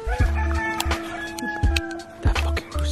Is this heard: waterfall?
no